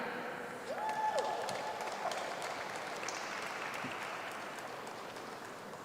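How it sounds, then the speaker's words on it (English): Steady applause fills the space for master's degree graduates at a Class of 2020 commencement, a soft, even wash of clapping that holds throughout without a break. "Let's give a big round of applause to all the master's degree graduates of 2020."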